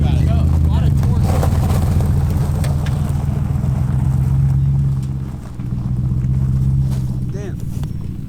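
A Nissan 240SX fitted with a 1UZ V8 accelerates on gravel, a loud, deep engine drone that rises in pitch, dips briefly and climbs again, with wind buffeting and voices talking over it.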